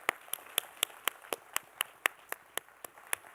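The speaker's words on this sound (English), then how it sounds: "Big round of applause for Jeff Perry as well, too, please." Sparse, evenly spaced claps ring out one after another, about a dozen sharp hand claps in a steady rhythm, fairly faint with no voices.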